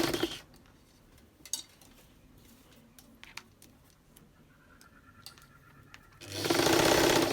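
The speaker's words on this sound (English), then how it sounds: "the camera is right on the table with the machine, and the machine will jump" A sewing machine stitching a garment bodice on a table, with quiet ticks and clicks of the mechanism, then a loud, steady whirring run of stitching near the end.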